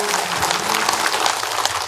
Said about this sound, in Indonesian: Oke, boleh tepuk tangannya mana Bu?